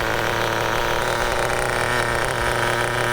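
A nitro RC car engine in an Associated TC3 with an OS carb, built for drag racing, hums at a steady, buzzy idle, continuous and close.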